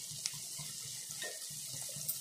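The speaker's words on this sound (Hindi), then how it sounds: "और इसमें थोड़ा सा और पानी डाल दीजिए" Water streams into a pan of soya chilli being cooked, a steady soft pouring splash with faint bubbling, close and quiet, with no talking.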